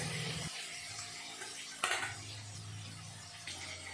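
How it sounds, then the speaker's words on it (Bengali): Turmeric-and-salt-coated fish frying in hot oil, giving a steady, close sizzle with occasional scraping knocks from turning the pieces. "এই পাশ ওই পাশ করে মাছগুলো আমি ভালো করে ভেজে নেব"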